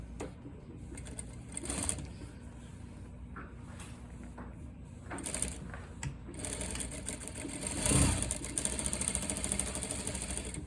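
Domestic sewing machine stitching the side seams of a princess-seam armhole sample, running in short steady bursts with pauses and a louder surge near the end, close and fairly quiet.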